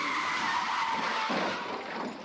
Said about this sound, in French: C'est celui de deux bagnoles qui se rentrent dedans